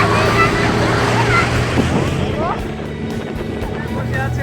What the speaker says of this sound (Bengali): এই যে বোট চালু হয়ে গেল